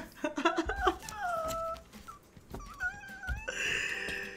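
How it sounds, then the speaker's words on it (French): Cats in distress give several drawn-out, wavering meows, some overlapping, close by, with scattered knocks and bumps between them. "Ils m'ont fait des miaulements de détresse."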